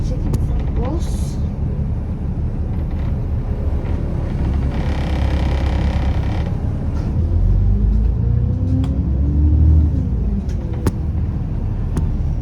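A bus engine rumbles steadily while stuck in traffic at lights, a low continuous drone with road noise and occasional faint knocks, with talk nearby.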